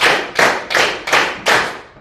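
Hands clap in a counting clapping game: five sharp, evenly spaced claps, close and crisp, with nothing else heard between them.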